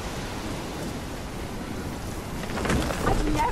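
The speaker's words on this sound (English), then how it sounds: "I've never seen a storm like this in Oregon." A thunderstorm in the video game Life Is Strange, set in Oregon, gives a steady dense roar of heavy rain that swells louder near the end, with a low rumble beneath.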